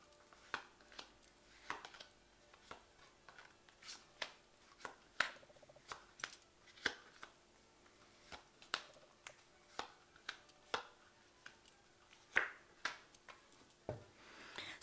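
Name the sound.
tarot cards being drawn from a shuffled deck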